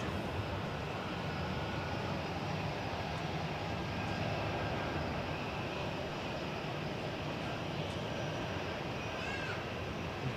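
An airliner taking off from runway 28 at Zurich airport, a broad, steady roar of jet engines sustained at a distance with no breaks, heard outdoors from a plane-spotting position.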